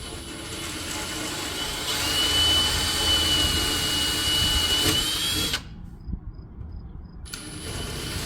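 A power drill whirs steadily at high speed through an RV wall, its pitch rising slightly before it stops abruptly, leaving brief quiet clicks before the drilling resumes.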